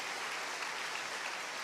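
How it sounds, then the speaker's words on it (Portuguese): A church congregation gives a brief burst of applause during a sermon, a dense, even wash of clapping heard from a distance at low level. "Dá um aplauso a Jesus"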